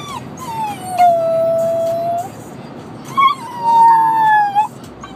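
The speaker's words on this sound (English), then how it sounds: "She on the howl." A four-month-old puppy lets out two long, high, wavering howls close by, separated by a short pause, with small yips and whimpers breaking in.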